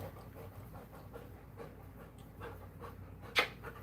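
A pet dog pants steadily and faintly in a quiet room at home, rapid rhythmic breaths running throughout over a low background hum, with one brief sharper noise near the end.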